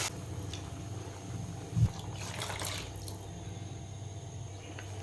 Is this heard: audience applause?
no